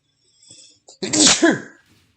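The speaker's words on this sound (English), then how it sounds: "Had to sneeze on that one." A single loud, close sneeze bursts out after a faint intake of breath, sharp at onset and trailing off quickly into silence.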